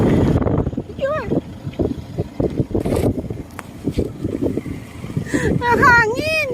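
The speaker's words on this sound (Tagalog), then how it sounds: "Ang hangin." Strong gusts buffet the microphone on an outdoor property lot in Pililla, Rizal, a continuous low rumble under people talking nearby.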